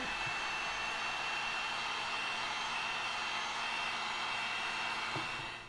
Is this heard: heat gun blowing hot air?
yes